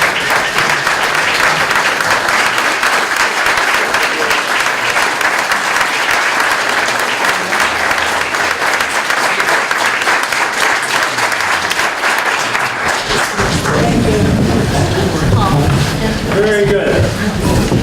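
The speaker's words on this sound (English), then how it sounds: "she deserves a round of applause." Loud, sustained clapping from a town meeting audience in Jamaica, continuous throughout, with chatter and movement becoming more prominent toward the end.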